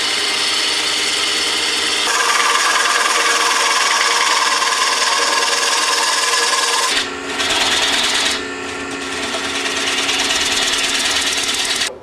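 A woodturning tool cuts wood on a lathe, giving a loud, continuous, close rasping whir that shifts in tone as the cut changes and briefly drops out near the end.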